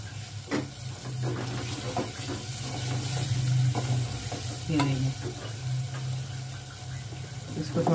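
Tomatoes fry and sizzle in a pan while being stirred, a constant close hiss punctuated by scraping utensil strokes, with faint talking in the background.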